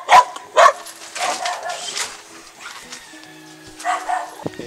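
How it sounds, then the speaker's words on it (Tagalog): A dog barks twice in quick succession near the start in a quiet residential spot in Santo Tomas, Batangas, followed by faint background sounds and a low hum. "Nandun sila sa may nagtatahol na aso."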